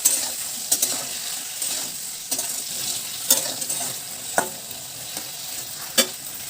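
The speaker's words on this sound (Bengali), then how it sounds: "ভালো করে নাড়াচাড়া করে নিয়ে সবজিটা বেশ কিছুক্ষণ ভাজা করে নেব" Potatoes and ridge gourd with turmeric and salt stir-fried in a pan, a soft steady sizzle broken by sharp metallic scrapes and clinks of the spatula at irregular intervals, close up and without speech.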